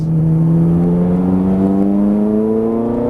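A Ferrari 430 Scuderia V8 on a racing course climbs steadily in pitch under hard acceleration, a loud, continuous engine roar with rising harmonics that sounds close and unbroken throughout.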